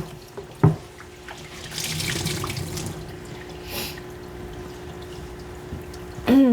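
Warm water from a tap runs steadily while a miniature poodle is rinsed at a grooming sink, with a broad hiss swelling in the middle and a few sharp clanks and squeaks near the start and end.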